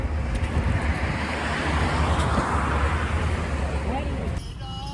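A jeep driving along on a trip to Haridwar, with a steady low road rumble and wind buffeting the microphone continuously, and a voice audible over it.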